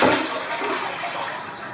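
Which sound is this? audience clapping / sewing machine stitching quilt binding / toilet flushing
toilet flushing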